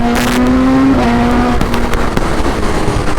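A 2021 Suzuki Hayabusa motorcycle and a BMW drag racing, with a loud, close engine roar and a rising rev tone that drops away as the vehicles pull off, plus sharp whooshing bursts.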